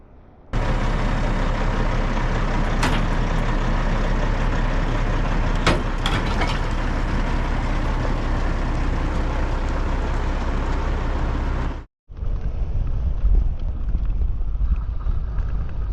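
A semi truck hauls a trailer near a freeway and dirt road, its loud, steady engine drone and broad road and wind roar filling the cab for the whole stretch, with a brief dropout near the end.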